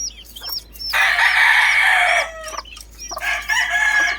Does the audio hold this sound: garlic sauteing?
no